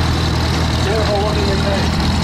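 Restored Nuffield M4 tractor idling at a steam rally, a loud, steady engine drone with someone talking over it.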